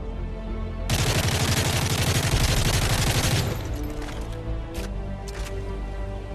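An M4A1 assault rifle fires in a video game, a loud, close sustained burst of rapid automatic shots lasting about two and a half seconds, followed by fading echoes and a few brief clicks.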